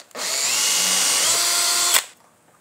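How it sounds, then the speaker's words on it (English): Power drill boring holes through dessert stand plates for a Christmas tree dessert stand, one continuous high whine of about two seconds that starts and stops abruptly, close and loud with no talking. "We're just going to drill a few more holes, then we're going to connect."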